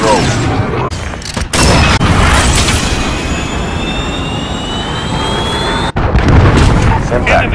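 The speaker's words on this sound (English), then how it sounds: "Cruise missile go for launch." A cruise missile launch and blast in Call of Duty: Modern Warfare, a loud roaring jet-like rush with booms and a whistling descent, heavy and close, cut by sharp impacts.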